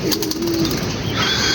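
A checkered racing pigeon coming into a loft, with soft bird calls and a fluttering of wings near the landing spot, brief and fairly close.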